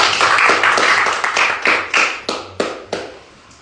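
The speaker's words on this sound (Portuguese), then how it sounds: "Vamos aplaudir o Senhor pela vida dela." A church congregation at an evening missions service claps for a deaconess, a dense burst of hand claps that thins into several separate louder claps and fades, heard up close.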